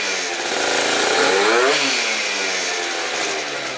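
A 70cc Zuma scooter engine running on warm-up, a buzzy, raspy two-stroke drone that revs up and falls back once, loud and close with no talking.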